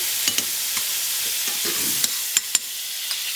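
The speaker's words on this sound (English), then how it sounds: "I have some butter, which I'm going to put in a warm pan" Butter melts in a warm pan with olive oil, giving a soft continuous sizzle close by, with a few light clicks and taps from utensils, and no voices.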